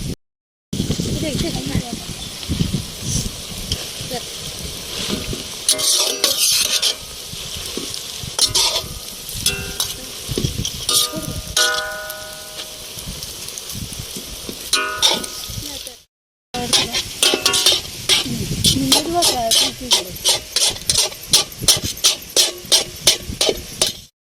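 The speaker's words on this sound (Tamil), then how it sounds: "இப்போ வந்து நூடுல்ஸ் போட்டு பெரட்டிக்கலாம்" Noodles tossed with fried egg in a frying pan give a steady sizzle with repeated stirring and scraping strokes, loud and close, broken by a brief pause near the end.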